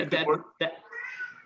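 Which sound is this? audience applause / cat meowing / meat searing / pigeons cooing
cat meowing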